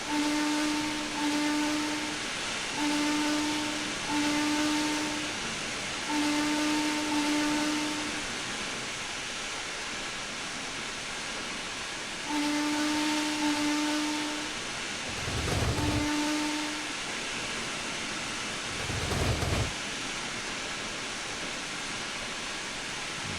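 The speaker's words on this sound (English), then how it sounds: "Let's go ahead and sound the whistle." A steam locomotive whistle in Trainz Railroad Simulator 2022 sounds a series of loud, clear blasts, short and long, spread across the stretch with pauses between, over a constant hiss of steam and rumbling engine noise, with two low thumps near the end.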